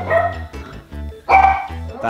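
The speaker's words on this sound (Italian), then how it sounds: "ho i cani che abbaiano e continueranno a abbaiare" Several dogs bark loudly and close by in repeated rhythmic bursts, a deep bark answered by sharper yips.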